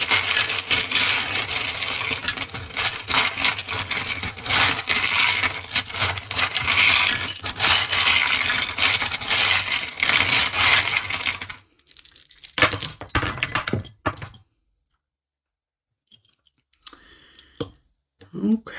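Charms and crystals shuffled together for a charm-cast reading, a dense run of small clicking, clinking and rattling objects for about twelve seconds, then a few scattered clicks and near silence.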